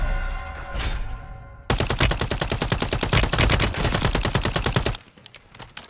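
Rapid automatic gunfire rattles out in a loud, close burst in the shooter game Call of Duty Warzone on Rebirth Island, after a brief sweeping tone, then cuts off into quieter game ambience.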